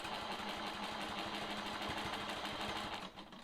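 Sewing machine running steadily through free-motion quilting with a long ruler held against the foot, a fast even needle chatter at close range that eases off near the end, with no talking.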